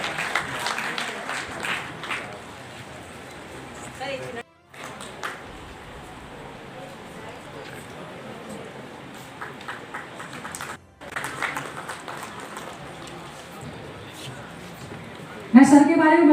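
Sustained applause from an audience at a teachers' forum gathering welcomes a guest named Gandar ji; a dense, steady patter of many hands fills the room, dipping briefly twice before swelling again near the end.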